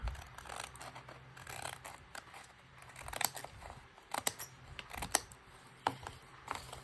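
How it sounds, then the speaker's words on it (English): Scissors snip through a paper map for a travel journal, with a run of short, crisp cuts close by, spaced irregularly and growing sharper toward the end, in a quiet room. "And cut from here to nothing."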